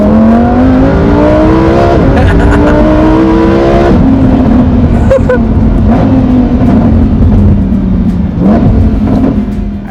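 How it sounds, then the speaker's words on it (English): A Lamborghini Huracan Evo with a RYFT titanium exhaust revs loudly and close, pitch climbing through rising sweeps, then settling into a deep, rumbling idle between throttle blips. "let you guys hear how the RYFT titanium exhaust sounds"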